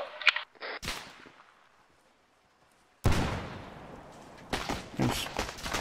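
Gunfire in the Arma 3 military shooter, heard as a few sharp shots early, then a quiet pause, then a loud sustained burst of firing with echoing reports that returns in heavy volleys near the end.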